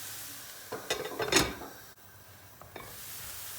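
Onions frying in a pot are stirred with a utensil, giving a few scraping, clattering strokes against the metal over a quiet sizzle, followed by a softer stir.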